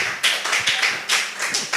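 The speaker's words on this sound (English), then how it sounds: "You are doing a great job by clapping for us." Spelling bee audience clapping at the close of the contest, a sparse handful of sharp claps in irregular bursts, fairly close and moderately loud.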